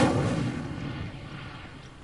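Casting the Incendio fire spell in Hogwarts Legacy sets off a single booming, explosive whoosh that starts loud and fades off into a rumbling tail over about two seconds.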